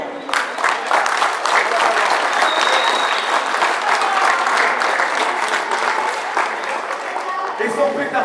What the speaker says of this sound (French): Nous, on les applaudit.